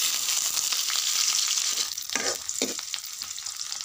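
Onions, green chillies and bay leaves frying in hot oil for a meat curry, giving a loud, steady sizzle close by, with stirring scrapes and bursts of crackle in the second half.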